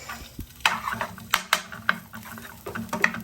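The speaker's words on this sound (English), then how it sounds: "we're just gonna add some little bit of oil to the pot and add the garlic" Garlic frying in a little oil in a pot, a sizzle broken by sharp utensil scrapes and clinks against the pot, close and fairly loud, with no talking.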